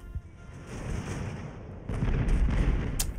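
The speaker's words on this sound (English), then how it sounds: "taking quite heavy cannon fire at the moment." Heavy cannon fire from ships of the line in the Ultimate Admiral Age of Sail naval battle game: a dense, continuous low rumble of booms that swells louder partway through, with a sharp crack near the end.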